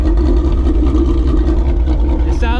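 Ford Mustang GT S650 V8 with a full E85 tune and ghost cam tune, a loud, deep, lumpy idle rumbling steadily close by, with a brief higher sound at the very end.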